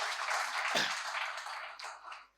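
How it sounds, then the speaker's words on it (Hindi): An audience at a Hindi comic poetry gathering claps steadily in a dense patter that carries on for about two seconds before fading and cutting off. "अब चाहते हैं तो आप ताली बजा सकते हैं"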